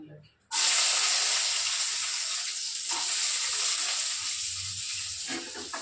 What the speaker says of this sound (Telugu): ఉల్లిగడ్డలు వేస్తున్నాను